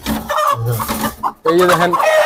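Australorp chickens on a poultry farm cluck loudly and close by in a dense, continuous flurry, with a brief pause partway through.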